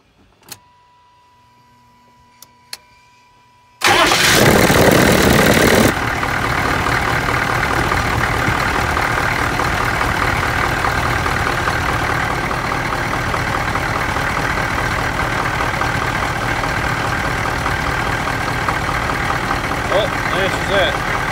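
GMC 6.5L diesel pickup engine cranks and catches with a loud roar after a few quiet clicks, then settles into a steady, heavy diesel idle that continues unbroken, close and loud, with a voice briefly audible.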